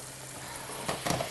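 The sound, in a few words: cognac sizzling as it is poured into a hot pan with pepper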